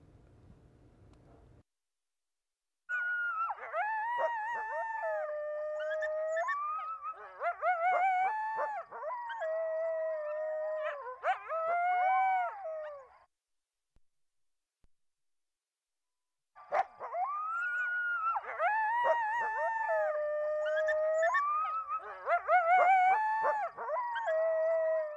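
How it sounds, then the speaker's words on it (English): Coyotes howl and yip in a chorus of wavering, high-pitched calls, a long burst followed by a few seconds of silence and then a second chorus, fairly close and loud. "You brought a sound file with us today, right, of coyotes."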